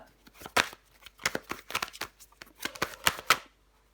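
A deck of tarot cards being riffled and shuffled by hand, a rapid series of close, crisp flutters and snaps with a brief pause near the end, no talking.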